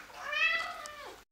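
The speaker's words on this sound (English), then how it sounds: "the cat's come in the room" A house cat that has wandered into a room gives one clear, drawn-out meow close by, rising and then sliding down before it cuts off into silence.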